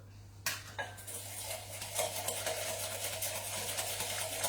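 A cook works with butter, sugar and an egg in a bowl for blueberry muffins, with repeated clinks and scrapes of utensil against the bowl, close and steady over a low background hum.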